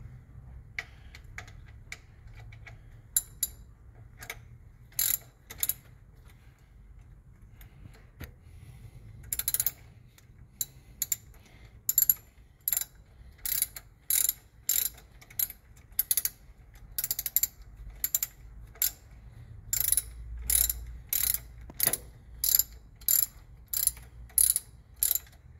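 A ratchet wrench tightens the water pump bolts on the Continental IKA six-cylinder engine of a Kaiser Carabela, with sharp, close ratcheting clicks that start sparse and become a steady, rhythmic run of clicks along with faint clanks.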